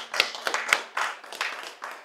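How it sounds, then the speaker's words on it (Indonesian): Handful of people clapping at a religious study gathering in Makassar, about a dozen separate, uneven claps in a short burst, close and moderately loud with no talk over them. "Tepuk tangan."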